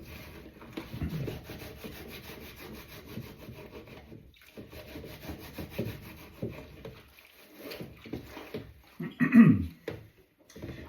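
A cheese grater being scrubbed clean, giving repeated rough rubbing and rasping strokes, close and fairly quiet, with a brief louder scrape near the end.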